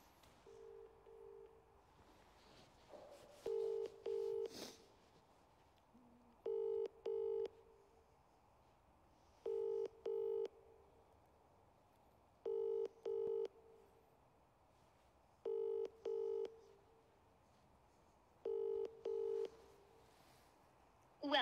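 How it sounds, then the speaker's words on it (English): Outgoing telephone call tones pulse in evenly spaced double bursts about every three seconds, clean and steady beneath a faint hiss, after an opening run of quick dialing tones; no one talks. "Adam, we're going to give you a call"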